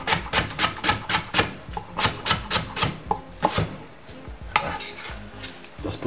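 A knife chops leeks on a cutting board in a steady run of sharp, close taps, about a dozen evenly spaced strikes, then a pause and a few more scattered cuts.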